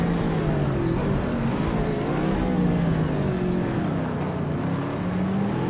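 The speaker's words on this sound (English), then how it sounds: "so now I'm going to drive this car as hard as I can" A race car in Project Cars 3 is pushed hard, its engine droning loudly and steadily. The pitch rises and falls as it revs and slides, with no talk over it.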